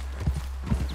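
Horse hooves clip-clopping in Red Dead Redemption 2, a couple of quick soft thuds over a low steady hum.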